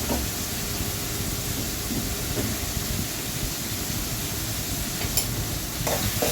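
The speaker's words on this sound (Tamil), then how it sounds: "அதையும் சேர்த்து நல்லா வதக்கணும். நான் வதக்குறது பாருங்கள்" Tomatoes and curry leaves sautéing in a pan for chicken gravy, with a constant loud sizzling hiss and a few sharp spoon scrapes near the end, no voices.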